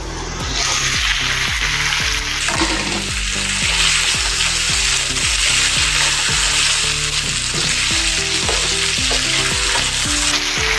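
Leftover rice snack with curry leaves frying and sizzling loudly in a pan, with a steady hiss and repeated scraping strokes of a spoon stirring it at a regular rhythm, close up.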